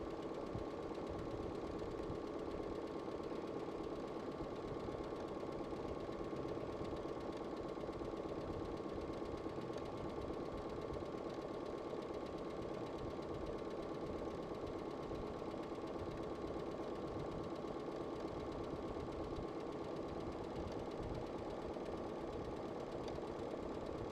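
A Brother PS500 sewing machine running slowly on a tiny 0.2 stitch length, giving a steady, continuous mechanical hum and whir at close range throughout, with no talking.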